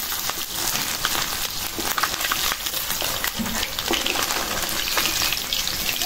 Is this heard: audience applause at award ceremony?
no